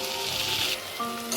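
Fried pointed gourd pieces tipped into a pan of frying potatoes and spices for a Bengali potol chingri curry, giving a steady close sizzle that hisses brightly, dips briefly, then resumes alone.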